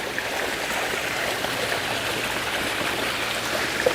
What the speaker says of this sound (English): This lovely little brook.